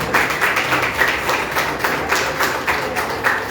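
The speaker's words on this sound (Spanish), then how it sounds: "Recibamos con este aplauso" A church congregation claps in a steady, rhythmic beat, nearby and moderately loud, with no voices over it.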